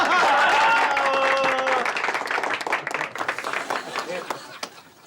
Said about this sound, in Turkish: Çok teşekkür ederim alkışlarınız için.